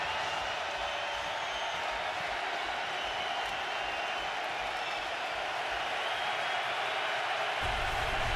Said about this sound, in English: Crowd full throat right now.